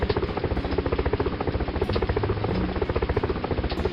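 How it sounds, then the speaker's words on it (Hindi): A helicopter flying over a flooded area where people wait on rooftops, heard as a fast, steady rotor chop with a continuous buzzing thrum, loud and close throughout. "हेलीकॉप्टर आकर खाने के पैकेट फेंकती है।"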